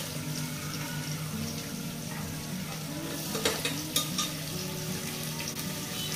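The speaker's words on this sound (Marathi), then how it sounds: "मिरच्या झाल्यावर आता कांदा घालते." Chopped onion going into chillies frying in a pan, a steady close sizzle with stirring scrapes and a couple of brief clinks, no voices.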